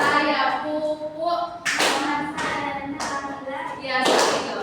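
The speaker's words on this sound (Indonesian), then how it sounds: "Tapi kita tetap tepuk tangan juga" Classroom students clapping hands together in loud, sharp bursts, about four distinct rounds of claps spaced roughly a second apart, close and ringing in a room, with some talk in the background.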